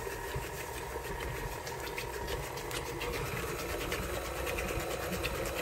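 An electric mixer whirs steadily as it beats red velvet cake batter with vanilla and white vinegar, a continuous motor drone at moderate level with no pauses.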